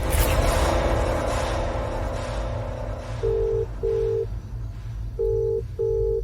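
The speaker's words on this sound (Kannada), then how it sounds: "ಆ ಹುಡುಗನಿಗೆ ಫೋನ್ ಮಾಡಿಕೊಡು" A telephone being dialed gives four short, even electronic keypad beeps in two pairs, clear and alone after a fading rush of background noise.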